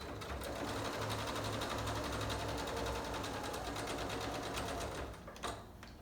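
A sewing machine stitches a handmade pleated fabric mask, running in a steady, fast continuous whir close by before easing off near the end.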